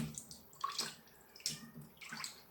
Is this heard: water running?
yes